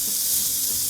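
Beef steak bites searing in a big skillet, spread out in the pan: a steady, close hiss of sizzling fat with no pauses.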